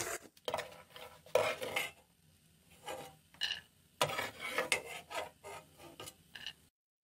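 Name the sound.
scooping fried nuts out of ghee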